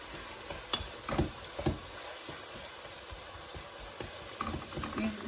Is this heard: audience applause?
no